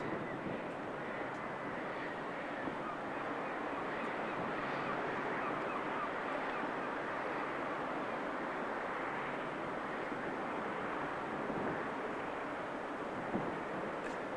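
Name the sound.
wind on lighthouse gallery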